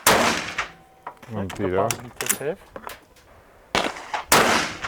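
Firearm shots ring out at a shooting range, sharp loud bursts near the start and two more toward the end, with someone speaking briefly in between.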